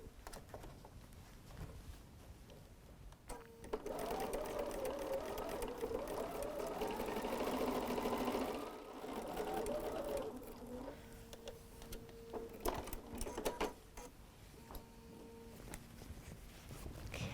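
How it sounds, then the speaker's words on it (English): A sewing machine stitches the final seam of a Christmas Noel quilt block, its motor humming in a steady run of several seconds, then a few shorter bursts, nearby with no talk. "let's go sew. Let's go finish this final seam."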